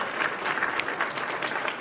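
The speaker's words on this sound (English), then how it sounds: "we also want to give him a round of applause" A round of applause from a small audience, a brief dense burst of clapping, close and fairly loud, with no talk over it.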